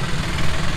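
A stalled motorcycle on a road in Mombasa rumbles back to life, its engine running in a brief, close, steady low idle with a slightly uneven throb.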